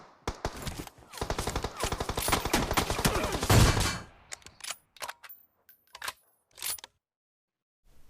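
Rapid automatic gunfire from the mobile game PUBG Mobile rattles in a dense burst, then breaks into a few sparse single shots and clicks before falling silent.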